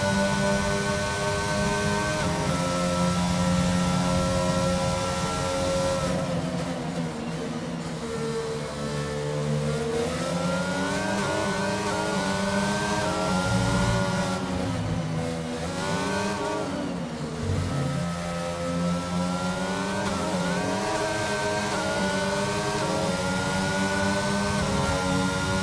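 A race car engine screams through a lap in a Formula-style racing video game at the Netherlands circuit, running on soft compound tires. The revs rise and fall steadily through gear changes with no pauses, alone and without talk.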